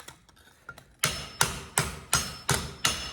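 Hot steel for an ulu knife is struck on a cold anvil after a few faint taps, then six loud, evenly spaced ringing hammer blows land close by, each decaying quickly.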